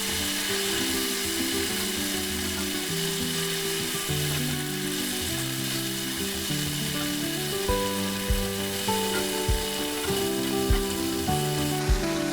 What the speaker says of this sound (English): Well, then you add in the spinach.